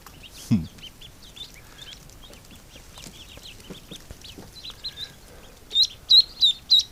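Young ducklings in a barn give high, thin peeps, scattered at first and then in a loud cluster of repeated calls near the end, with a brief knock early on.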